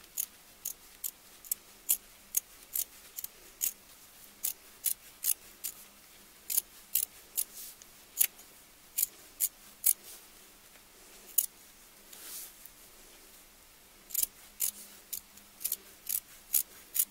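Scissors trim faux fur for a picture frame, sharp crisp snips repeating in a fairly regular rhythm about twice a second, close and clear against a quiet background, with a brief pause before the cutting resumes.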